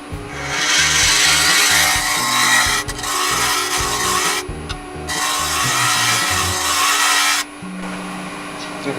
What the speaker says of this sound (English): I'm getting really fine shavings because I'm tipping my scraper up at an angle. So I'm shear scraping.